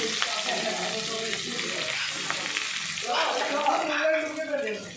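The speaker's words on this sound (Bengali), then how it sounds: "ওই একই সঙ্গে পেঁয়াজ আর টমেটোটাও তুলে দিচ্ছি" Onion and tomato go into hot oil left from frying fish, with green chillies already added, producing a continuous sizzle that surges louder partway through, with someone talking over it.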